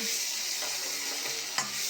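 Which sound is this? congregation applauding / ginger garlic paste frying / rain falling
ginger garlic paste frying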